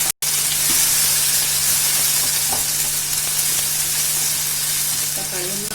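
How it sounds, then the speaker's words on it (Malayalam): Chopped tomatoes sauté in hot oil with green chillies for a Kerala-style fish curry, a loud continuous sizzle with a faint steady hum beneath and a few light utensil touches, no talking. "ഇനി നമുക്ക് തക്കാളി ഇട്ടിട്ട് ഒന്ന് വഴറ്റിയെടുക്കാം"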